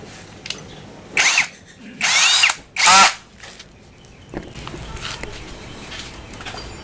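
A Lucid cordless drill whirs in three short bursts, each lasting about half a second to a second, close and loud, with quieter handling noises between and after.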